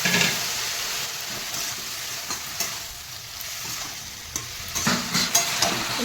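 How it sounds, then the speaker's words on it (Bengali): Spices sauté in a pan with a splash of water for a singi fish and cauliflower curry, hissing and crackling steadily up close, with a few sharp stirring scrapes near the end. "একটুখানি জল দিয়ে দেবো জল দিয়ে একটু কষিয়ে দেবো"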